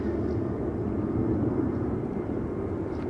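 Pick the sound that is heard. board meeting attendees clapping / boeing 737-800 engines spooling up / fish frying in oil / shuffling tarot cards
boeing 737-800 engines spooling up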